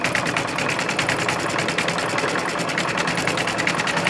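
An embroidery machine stitches a decorative snowflake design on a quilt block, its needle pounding in a fast, even mechanical rhythm with a steady motor hum, close and continuous.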